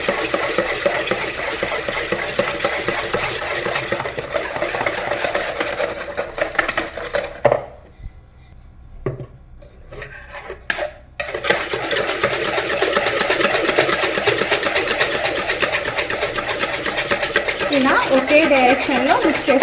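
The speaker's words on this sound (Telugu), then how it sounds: "ఇప్పుడు ఈ ఎగ్స్ని ఎగ్ వైట్ ఇంకా ఎగ్ ఎల్లో మొత్తం చక్కగా మిక్స్ అయిపోయేలాగా ముందుగా మిక్స్ చేసుకోవాలండి" Eggs, whites and yolks together, whisked in a bowl for homemade brownie batter, a steady fast rhythmic beating and clinking that runs almost throughout, pausing briefly midway, with a voice talking over it.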